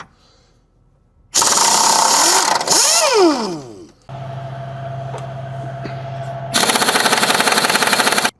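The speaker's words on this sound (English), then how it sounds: "a little back and forth with the air impact" Air impact wrench rattling loose K-member bolts on a Foxbody Mustang, loud close bursts of hammering with a whirring spin-up and spin-down between them, alone without talk.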